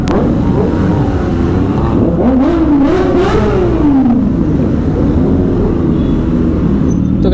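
A loud, continuous roar of motorcycle engines echoes inside a tunnel, with a revving pitch that rises and falls throughout.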